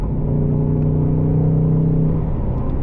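Ford Mustang Dark Horse with a six-speed manual pulls hard in second gear, its engine a loud, steady, rising drone with a deep rumble that runs close and unbroken for the whole stretch.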